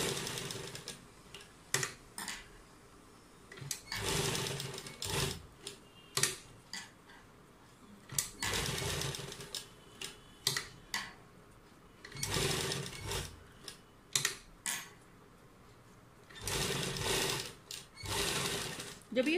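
A sewing machine stitching piping around a neckline runs in repeated bursts, loud and close with a rapid ticking rattle, stopping and starting as the fabric is turned.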